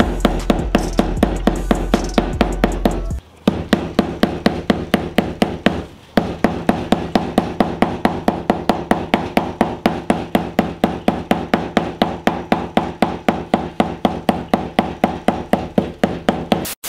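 Steady, rapid hammer blows strike a ball of aluminium foil over and over at close range, a regular metallic tapping that pauses briefly twice before carrying on.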